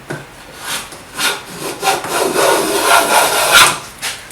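A Buckeye jack plane shaves wood in a series of close, rasping strokes, each a short swishing scrape with brief pauses between, about seven passes in quick succession.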